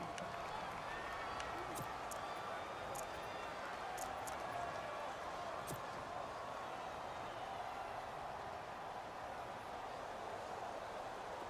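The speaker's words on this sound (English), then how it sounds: "the crowd getting into it as we come up on a big 3rd down" A crowd in an American football video game roars in a steady, dense wash of cheering and noise that runs unbroken throughout, with a few sharp clicks and thumps on top.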